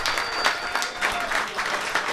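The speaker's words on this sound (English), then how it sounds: "give him a round of applause" Small crowd at a Texas Rangers fan meetup gives a short burst of applause, scattered claps forming a light, steady patter at moderate distance.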